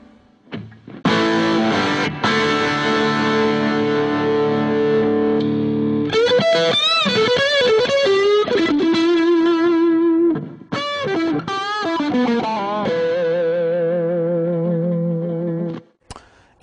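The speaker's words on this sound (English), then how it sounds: "The next one here is the Classic Stack. Kind of again, a lot like several amps built in Britain." Electric guitar played through a British plexi-style Classic Stack amp model, loud and crunchy, with sustained chords and single-note lines ringing out and a brief gap between phrases.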